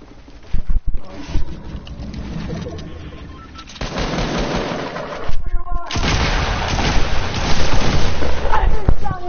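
Gunfire cracks out in a video game shootout, with sharp shots near the start, a dense burst midway and more loud reports toward the end over busy background noise.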